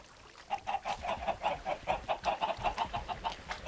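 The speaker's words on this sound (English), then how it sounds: "Put some chickens in there." Chickens in Minecraft cluck in a steady run of short, repeated bursts, fairly close and clear, with no talking over them.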